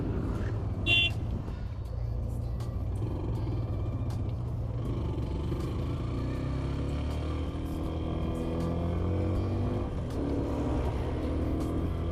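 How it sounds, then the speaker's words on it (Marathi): A Maruti Wagon R passes on a scenic ghat road near Pune, its engine a steady broadband rumble that swells and fades beneath continuous road and wind noise, with a brief high chirp early on. "Maruti wagon R"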